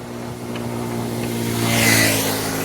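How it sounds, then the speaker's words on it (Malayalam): A vehicle fitted with a Royal Enfield Bullet motorcycle engine chugs along a village road in rural Gujarat farmland, its steady low thumping drone running continuously and swelling slightly as it passes nearby. "എൻ്റെ വലത്തുവശത്ത് കാണുന്നതാണ് മറ്റേ ബുള്ളറ്റിൻ്റെ എൻജിൻ വെച്ചിട്ടുള്ള വണ്ടി."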